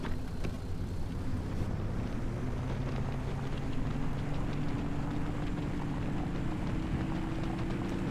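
A car in the video game Pacific Drive drives steadily with a low, constant engine rumble and road and wind noise, unbroken and fairly quiet throughout.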